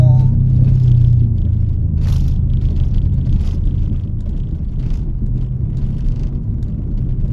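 A car drives and turns around to park, its engine a steady, close, loud rumble with a faint higher whine, with no break in the motor noise.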